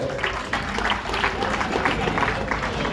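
A birthday felicitation for a former gram panchayat member in Keshavnagar draws a dense, steady wash of audience clapping, with crowd murmur and a few voices mixed in.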